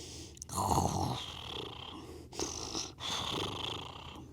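A person imitating snoring during a kids' yoga story, two drawn-out breathy, rattling snores with a short pause between them, close and fairly loud, with no other talk.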